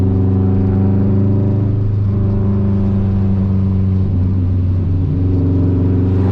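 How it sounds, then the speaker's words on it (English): A 2004 Subaru STI engine rumbles deep and steady at low revs, its exhaust burbling with slight shifts in tone as the throttle is blipped, heard close from inside the car with no voices. "Just tapping the gas and yep, the gurgles."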